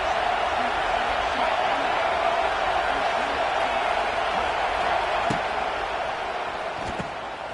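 Roaring stadium crowd at an American football game, a dense, steady wash of distant cheering that holds for several seconds and eases slightly near the end, with a commentator talking over it.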